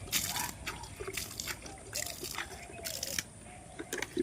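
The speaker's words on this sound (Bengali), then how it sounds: "আমি আমার বালতিগুলো নিয়ে এলাম জল দেওয়ার জন্য।" Water sloshes and splashes as it is poured from buckets onto a freshly sown rice field, coming in a few uneven bursts of spilling liquid close by, with a voice speaking over parts of it.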